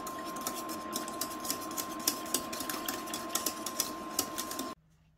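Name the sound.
stirring boiling strawberry cake mixture in pot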